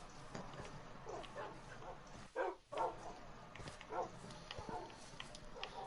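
Minecraft dogs let out a few short, separate barks and yips at moderate loudness, with a sharper cluster of barks in the middle, amid soft game background noise.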